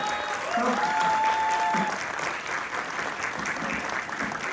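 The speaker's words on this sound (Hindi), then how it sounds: "तालियों में थोड़ी और जान लगाइए।" An audience at a yoga conference at a Sanskrit university in Uttarakhand claps in dense, sustained applause, a steady even roar of many hands that carries on without pause, with a faint tone briefly sounding in the background.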